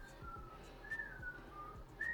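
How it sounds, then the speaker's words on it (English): Someone whistles a wavering, sliding tune, fairly faint and a little distant, in short phrases with gaps between them. "somebody wanna start whistling when I'm trying to talk"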